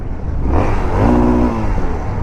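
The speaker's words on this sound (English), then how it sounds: "Maximum revs for the legendary XT660R." Yamaha XT660R single-cylinder motorcycle with its factory exhaust revved up to maximum, one quick swell of engine note rising and falling back to idle, fairly quiet and close with mechanical clatter.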